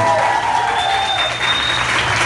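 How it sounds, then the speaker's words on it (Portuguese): Applause from an audience at a baby shower for a couple, steady clapping filling the whole stretch loudly, with a voice talking faintly over it. "um aplauso pra esse casal"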